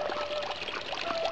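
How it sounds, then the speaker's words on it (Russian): Spring water babbling at the bottom of a dried-up riverbed mouth, a close continuous trickling and gurgling with bubbly splashes, steady throughout with no voices. "По пути привлекает внимание журчание воды внизу."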